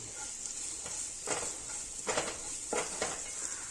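Onions being stirred and fried in a little oil in a pan, a steady sizzle with several scraping stir strokes at a close, moderate level.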